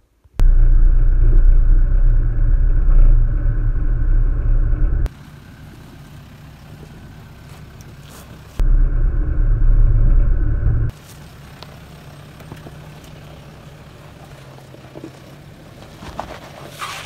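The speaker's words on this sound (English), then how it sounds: "see there's some wheel spin, so this means it's becoming a bit of an axle twister here" A 4x4 vehicle climbs the rough Breedtsnek mountain pass, its engine rumbling loudly in two heavy bursts of effort separated by quieter stretches of crunching and wind, with wheel spin on the loose surface.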